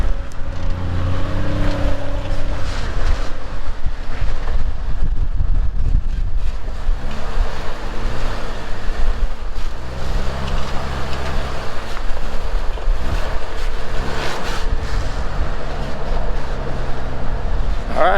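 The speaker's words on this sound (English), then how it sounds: "The only downfall is the wind picked up." Strong wind on a hiking trail in northern Idaho roars and buffets the microphone continuously, a loud rumbling gust with no pauses.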